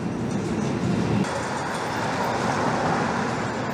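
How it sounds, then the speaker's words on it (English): A New York subway train rides uptown beneath Broadway on the west side, giving off a steady, loud rumble and roar of wheels and carriage noise that fills the whole stretch without any break. "we're about to go at the New York subway system for the first time"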